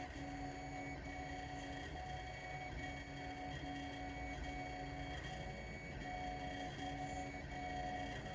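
A 3D printer lays down a PLA jeweller's peg, its stepper motors whining in short repeating tonal runs over a soft mechanical hum, fairly quiet and close with no talking.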